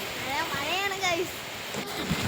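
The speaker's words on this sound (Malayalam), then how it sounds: "നല്ല മഴയാണ് ഗൈസ്" Heavy rain falls steadily outdoors as a dense, even wash of hiss, with a voice talking over it throughout.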